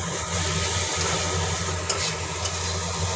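Tomatoes fry with masala in oil, giving a steady soft sizzle with low rumbling underneath and a few light scrapes of stirring, moderately quiet and close.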